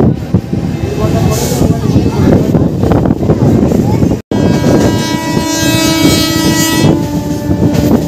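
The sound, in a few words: Howrah to Digha passenger train running on rails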